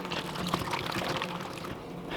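Water is poured into a gold pan holding crushed ore and steel bits, a close, continuous splashing and trickling that runs throughout, with no talking.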